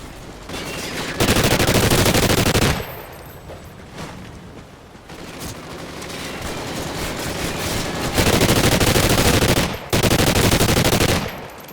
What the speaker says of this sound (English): I recommend the machine guns